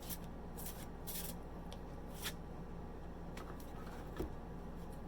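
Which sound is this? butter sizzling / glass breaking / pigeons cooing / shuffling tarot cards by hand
shuffling tarot cards by hand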